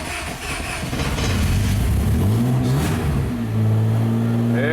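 An old Honda engine catches and revs under throttle, climbing and wavering in pitch before settling into a steadier, loud idle close by.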